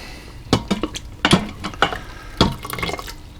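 Juices drip and splash as pork chops and sauerkraut from an Instant Pot are lifted with a slotted spoon, giving a run of wet, close patters and drips in uneven bursts.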